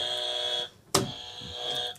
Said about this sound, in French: on arrête les buzzers